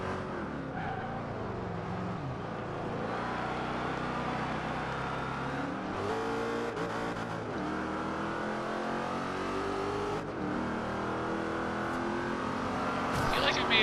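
A Jaguar races in Forza Horizon 2, its engine revving and droning continuously with shifting pitch as it accelerates and corners, tyres briefly squealing, under game sound at moderate level.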